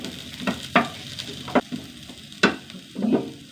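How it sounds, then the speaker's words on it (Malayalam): Jaggery and ginger pieces frying in a pan, heard as soft sizzling with several sharp scraping stirs of a utensil at uneven intervals, close and fairly loud. "ഒരു കഷ്ണം ശർക്കര ഒരു കഷ്ണം ഇഞ്ചി മൂപ്പിക്കുക"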